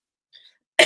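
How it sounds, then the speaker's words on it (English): A single dry cough bursts out loud and close at the end, preceded by a faint brief throat sound. "This is just a dry cough"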